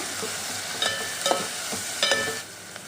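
Fried onions with chili powder are stirred in a hot pan, making a steady close sizzle with a few scraping strokes of the spoon. No one speaks.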